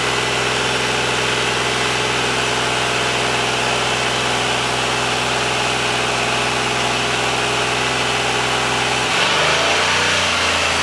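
A Ford 460 EFI V8 runs at a steady raised speed of about 2500 rpm, a loud, constant, close engine drone, then the pitch shifts and roughens near the end.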